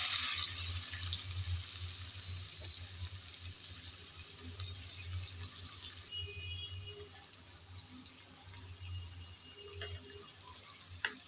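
Chopped onion fries in hot oil with cinnamon sticks and cardamom, giving a steady, faint hiss and sizzle throughout with a few soft stirring clinks.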